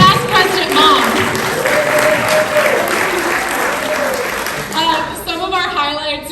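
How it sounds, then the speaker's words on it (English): Applause at a Rotary club meeting in Coronado, a full burst of crowd clapping that gradually thins, with voices talking over it toward the end. "So, round of applause."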